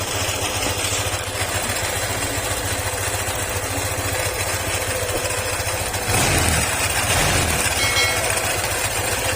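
A motorcycle engine with a worn crankshaft bearing idles loudly up close with a fast, rough knocking rattle, briefly rising in pitch partway through.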